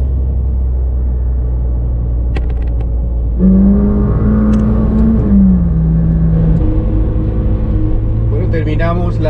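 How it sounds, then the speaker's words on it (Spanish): A McLaren 720S Spider sports car from 2019, with its engine mounted just behind the cabin, hums and rumbles during a road drive, then rises into a revving whine that shifts pitch, with occasional talk over it. "escuchar el impresionante sonido del motor, que está ubicado justo acá atrás de la cabina."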